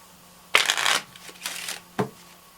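A deck of playing cards being shuffled for a magic trick, three brisk riffling bursts in quick succession at close range, with no talking.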